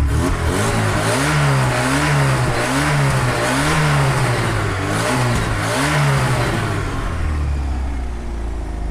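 An old Tofaş car engine revving hard at close range, repeated rising and falling throttle blips in a wavering rhythm, loud throughout before easing off near the end.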